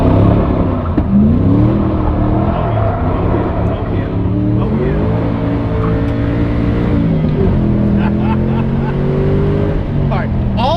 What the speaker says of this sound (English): you hear the exhaust rattling?